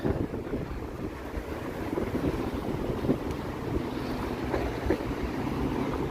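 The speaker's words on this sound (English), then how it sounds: "We're getting some wind, but it's not so bad." Wind blows through downtown Toronto on a mild, thawing winter day, making a steady, fairly loud rushing roar that buffets the microphone throughout, with no one speaking.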